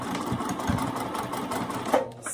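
A sewing machine stitches along the fold line of a zipper while an ID badge holder is made, giving a close, steady mechanical whir with a rapid needle rhythm throughout.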